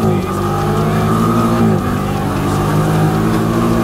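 A Honda Pioneer 500 side-by-side drives in automatic mode, its engine humming loud and close with a steady drone and a slight shift in pitch partway through.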